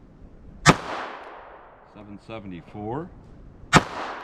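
Two loud, sharp .32 ACP +P pistol shots fired from a Kel-Tec a few seconds apart, each with a brief ringing tail, with a voice speaking briefly between them.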